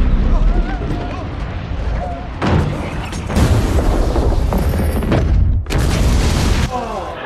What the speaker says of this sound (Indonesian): terjadi ledakan di dalam ruangan